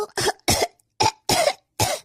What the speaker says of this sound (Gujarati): અરે ખાંસી થઈ ગઈ છે.